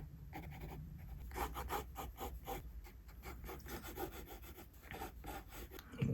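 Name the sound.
sketching hair strands in a drawing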